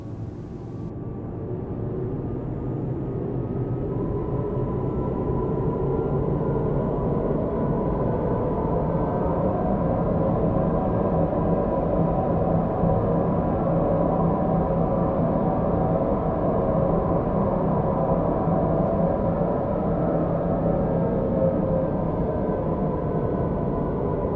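A steady low rumble and hum of a moving train in the video game Star Citizen continues evenly, with faint tonal whirring layered on top and no talking.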